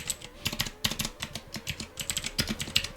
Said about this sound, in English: Stop typing, brother.